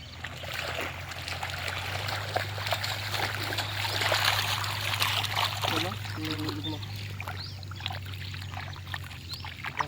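Steady rushing and trickling water flows continuously through a channel, with a low constant hum underneath and faint voices in the background.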